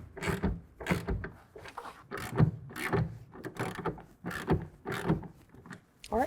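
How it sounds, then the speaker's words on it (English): A 1/2-inch ratchet snugging down a Truxedo TruXport soft roll-up tonneau cover clamp on a 2024 Toyota Tacoma, heard as close, repeated rhythmic bursts of clicking and grinding, about ten strokes with short pauses between them. "We can go ahead and lock that down using a 1/2-inch wrench or ratchet."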